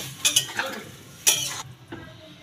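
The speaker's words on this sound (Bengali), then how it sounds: "জলটা দিয়ে এঁচোড়গুলোকে খুব ভালো করে আমি নেড়ে নেব" Young jackfruit pieces stirred in a pot with water, with a few quick scraping, clattering strokes of a spoon against the pot followed by a softer stroke, close and fairly loud with a low simmering hiss underneath.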